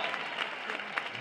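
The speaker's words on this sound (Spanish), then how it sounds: "Fuerte aplauso, José Mari." Audience at a Cádiz carnival show in Gines claps steadily, a dense, even wash of applause throughout with no voices rising above it.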